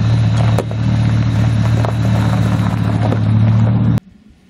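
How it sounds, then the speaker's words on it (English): A truck engine rumbles steadily at close range as it rolls over a mass-produced slingshot, with a few faint clatters, before cutting off abruptly. "Now we'll be driving a truck over the slingshot."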